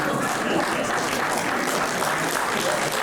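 Audience applause after a Lemko and Polish folk dance group's performance in costumes from eastern Lemko region, steady dense clapping filling the whole stretch, loud and close with no pause.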